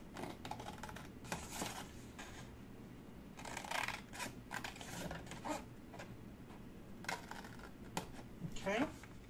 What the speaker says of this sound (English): So cut up on those to that score line there. Turn it all the way around and then cut up on these.